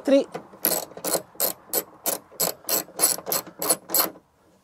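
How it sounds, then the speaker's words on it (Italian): A ratchet wrench fitted with a 10 mm socket clicks on a Fiat Panda 169 near the boot button, about a dozen loud, close, evenly spaced ratcheting bursts followed by silence. "Per fare questo si utilizza sempre la chiave a crichetto con bussola da 10 mm"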